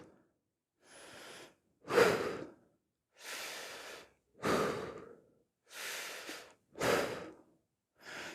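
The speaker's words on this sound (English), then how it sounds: "Sharp little exhales." Sharp, short exhales during power vinyasa yoga breathing, seven breathy puffs spaced about a second apart, close and fairly soft, with quiet gaps between them.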